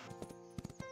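Hooves clip-clopping in a horse-ranch video game, Ranch of Rivershine, a few quick soft hoof beats at an even trot, faint and brief with no talking.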